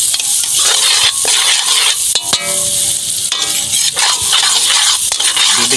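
Loud, close sizzling from a pan sautéing outdoors, where seafood such as oysters, mussels and shrimp is being cooked, with repeated metallic scrapes and clinks of stirring over the constant hiss and no talking.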